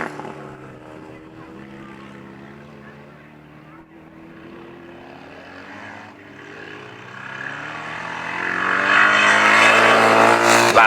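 Grasstrack motorcycles race at Bridgewater, where a restored bike leads the field; the engines drone and whine loudly from mid-distance, rising in pitch and growing louder as the bikes pass close near the end.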